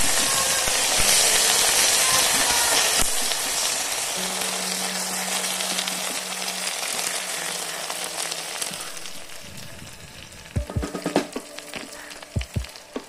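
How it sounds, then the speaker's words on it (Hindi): Onion with ginger-garlic paste fries in a pressure cooker for soya yakhni pulao, a steady loud sizzle that slowly eases, with a few sharp clinks of stirring near the end. "अब उसमें हम अदरक लहसुन का पेस्ट डाल के उसे अच्छी तरह से इसमें भून लेंगे"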